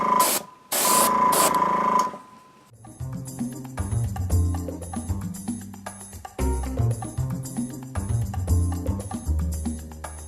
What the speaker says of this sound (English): be a little mindful of your angles when you're spraying because you don't want to cover up shadows